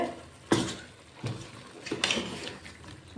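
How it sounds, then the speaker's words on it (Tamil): A spoon scrapes and knocks around a pan of chicken curry while it is being stirred, giving a few distinct clanks with softer scraping between them, close and moderately loud, with no talking. "இதை போட்டு கொஞ்ச நேரம் அப்படியே கிண்டணும்"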